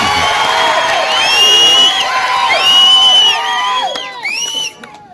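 A political rally crowd in Nellore cheers, whoops and shouts in a dense, loud burst of many voices, swelling and then tapering off near the end.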